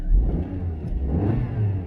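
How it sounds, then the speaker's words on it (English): Small 1-litre three-cylinder petrol car engine revving up while parked, a buzzy mid-pitched rise and fall heard close and fairly loud with no talk over it. "Revving up really nice."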